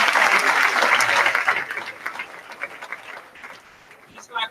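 Applause at the Hampton Bays High School 2019 commencement, a loud crowd clapping that thins and tapers off over a few seconds, with a voice over it.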